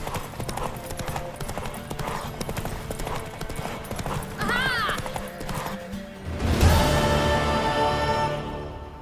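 Hooves clip-clop rapidly as a horse gallops in The Witcher 3 on PlayStation 5, a steady driving rhythm up close, with a neigh midway and a louder swell near the end, speech faintly present.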